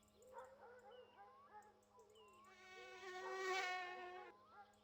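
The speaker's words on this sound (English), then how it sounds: "We're always being chased by mosquitoes." A thin, high insect whine of mosquitoes circles around the player in the Finnish countryside game My Summer Car, quiet and wavering, rising in intensity near the end.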